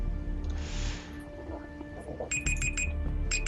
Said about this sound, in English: Sorry, Google Timer's freaking out.